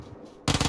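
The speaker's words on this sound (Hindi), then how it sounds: "नहीं भाई, गन चला रहा है भाई" Gunfire in the PC game PUBG Lite, a sudden loud burst of rapid automatic shots cutting in near the end of a brief stretch of quieter game noise.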